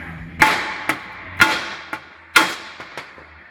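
A body hammer drives a socket against a 1965 Mustang's car body panel: three sharp metallic strikes, about a second apart, each followed by a lighter rebound tap, close and ringing.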